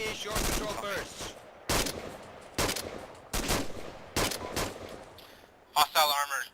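Bursts of gunfire from the Arma 2 military shooter game, several loud volleys spaced about a second apart with sharp broadband cracks, ending in a quicker cluster of shots, mixed with game radio chatter.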